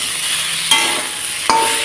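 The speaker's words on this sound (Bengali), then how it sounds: "তা আরও একটু ভালোভাবে নাড়াচাড়া করে লাল করে আর একটু ভেজে নেব" Steady sizzling of drumsticks (moringa pods) frying in a pan, with two sharp scraping clicks as they are stirred.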